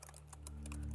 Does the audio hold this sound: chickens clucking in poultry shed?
no